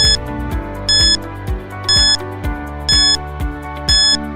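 A timer alarm beeps in a loud, regular pattern, with bright tonal bursts repeating about once a second over a sustained electronic tone, with no voices.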